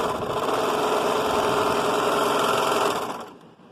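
A sewing machine runs steadily at close range while stitching the inner leg seam of a cowgirl costume, then slows and stops near the end.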